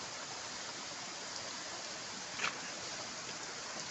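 Continuous soft rush of flowing mountain spring water, close and even, with one brief splash midway, as a woman drinks from the spring during the monsoon.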